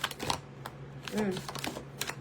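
Soft papery flicks and riffles of tarot cards being shuffled, a few quick bursts over a quiet room with a faint steady hum beneath.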